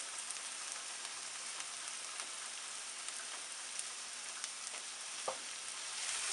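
Turmeric, smoked paprika, coriander and cumin cook in a pan for a chicken curry, a faint, even, steady sizzle with a few tiny pops and one brief tap of a utensil.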